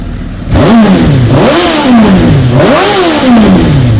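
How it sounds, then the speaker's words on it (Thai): A Suzuki GSX-R1000 sport motorcycle engine revs hard and close, the pitch swooping up and down in two or three loud throttle blips before settling. "ขออนุญาตเบิ้ลให้ดูรอบการทำงานของเครื่องยนต์อีกนิดนึงนะครับผม"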